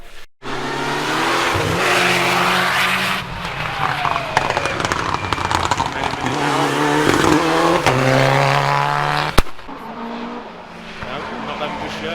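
Rally cars race past at Cadwell Park, engines roaring and revving as they approach and fade, with sharp pops and a loud crack near the end, while people talk over the noise.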